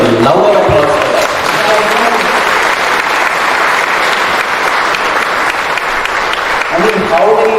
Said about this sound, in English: they need a louder applause for that.